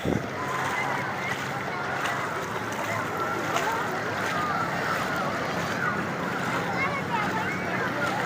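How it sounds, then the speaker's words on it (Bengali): Ocean waves wash in continuously along a beach at Cox's Bazar, mixed with wind buffeting the microphone, a steady broad roar throughout. "এই যে দেখেন পানির কি ঢেউ আসতেছে"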